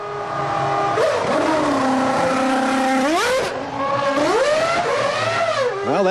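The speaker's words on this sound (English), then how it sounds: "Listen in, right on the rev limiter." Jarno Trulli's Formula 1 car sits on the rev limiter during a practice start at the 2001 Spanish Grand Prix, a loud, close, piercing engine note that holds steady, then dips and swings back up as revs change.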